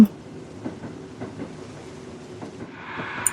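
Train rolling past a level crossing in the horror video game Burger & Frights: a faint, steady rumble with soft rhythmic clacks of wheels over rail joints, hissing louder toward the end, with no voices.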